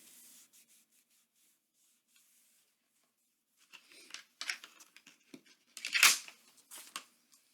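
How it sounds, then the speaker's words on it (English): Excess glue is wiped off a large paper folio with a cloth. Soft rubbing and brushing strokes come in short irregular bursts after a quiet start, faint and close. "First, I'm just going to wipe off any excess glue."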